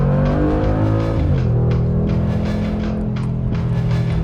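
A Mercedes G-Wagon driving on the road, its engine a steady loud drone with a rising then settling pitch shift, continuous and close throughout with no talking.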